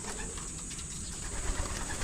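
Pigeons coo softly in a loft, a faint, low murmur under steady background hiss, with a few slightly louder soft notes near the end.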